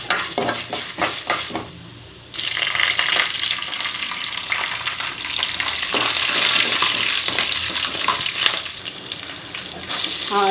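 Curry leaves go into hot oil in a pan with urad and chana dal and set off a sudden loud sizzle, preceded by a few stirring scrapes, then a steady crackling fry that continues to the end.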